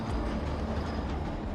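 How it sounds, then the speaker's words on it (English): A train leaving Munich rolls along with a steady low rumble and rattling wagon noise, continuous and fairly quiet, with no voices over it. "Just in time, Leo Lania boards a train leaving Munich."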